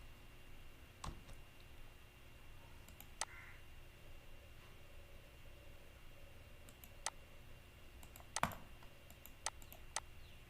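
Computer keyboard keys tapped while entering AutoCAD commands such as L and Enter, isolated clicks scattered over a faint steady room hum, with a brief cluster of sharper presses near the end.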